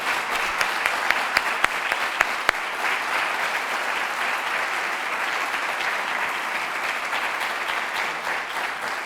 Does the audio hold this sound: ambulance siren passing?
no